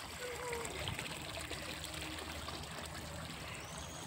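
Spring water welling up from below into a mountain toilet fixture with fish in it, a steady close trickle and splash, with faint voices now and then.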